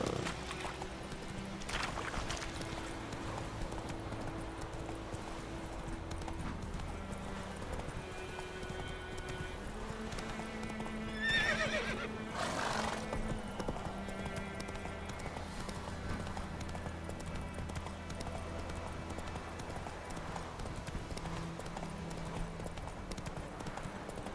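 Horse hooves clip-clop steadily in The Witcher 3: Wild Hunt, with a brief neigh partway through, over a low ambient game soundtrack.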